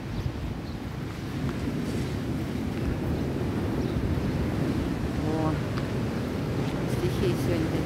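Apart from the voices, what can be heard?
sea waves crashing on the shore with wind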